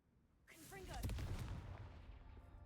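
A Confringo fire spell goes off in the Hogwarts Legacy video game as a sudden booming blast that swells and rumbles away, faint overall, with a short voice sound just before it.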